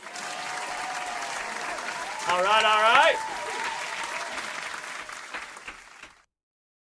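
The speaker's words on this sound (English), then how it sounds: "Let's clap it up here for the captains." An audience applauds for the captains at a Miami vs Virginia Tech fan show, sustained clapping with a short burst of someone speaking in the middle before it fades out.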